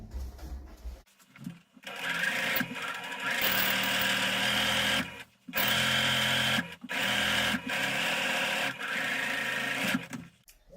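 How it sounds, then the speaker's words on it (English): A home sewing machine stitches cushion cover fabric in several long whirring runs, each lasting a second or more, separated by short pauses, close and steady with a mechanical hum. "I'm going to take this to my sewing machine and I am going to stitch along where I just pressed."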